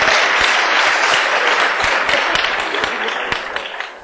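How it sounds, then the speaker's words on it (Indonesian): Audience applause at a Sinau Bareng gathering with Cak Nun and Kiai Kanjeng, a dense, steady crowd clapping that fills the room and slowly tapers off toward the end. "Tepuk tangan semua."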